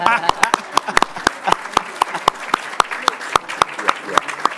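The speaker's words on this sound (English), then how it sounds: "we can do the round of applause first" An audience gives the panelists at a Northwest Ordinance history event a round of applause, heard as sparse, distinct claps in an uneven rhythm with voices talking underneath.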